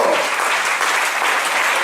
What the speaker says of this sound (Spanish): No le da usted un aplauso a Jesús por eso.